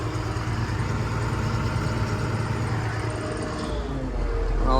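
A Case IH 140-series tractor engine idles steadily after hard work chopping corn silage, the PTO just switched off; a continuous low rumble holds close and loud, swelling slightly near the end.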